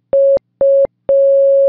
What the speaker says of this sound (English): The operator is sending Morse code for the letter V.